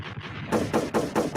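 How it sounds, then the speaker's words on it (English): Gunshot sound effects in a podcast: a burst of rapid, loud shots, about five evenly spaced cracks close together, with no talk over them. "Gunshots definitely for that"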